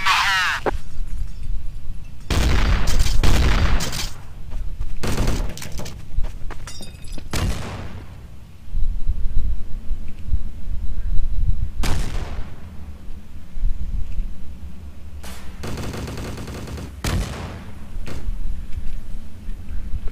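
Grenade blasts and gunfire in Counter-Strike: Source, with a scattered series of sharp, loud bangs and bursts spread over the whole stretch and quieter background ambience in between.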